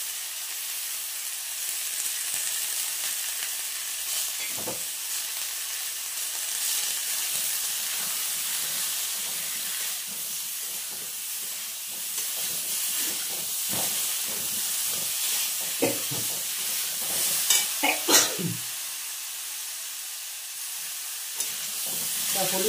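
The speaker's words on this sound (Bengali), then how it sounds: "হলুদ নুন দেওয়ার পরে এখন আমি এটাকে ভালো করে নেড়ে চেড়ে নেব" Green mango chutney with turmeric and salt sizzles and hisses in a hot pan while being stirred, a steady frying crackle with a few louder scraping stirs later on.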